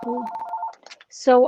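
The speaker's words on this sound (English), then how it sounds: "I'm sorry about that phone" A telephone rings in two bursts of bright, warbling electronic tone, one near the start and one louder at the end, with a voice speaking briefly in the gap between them.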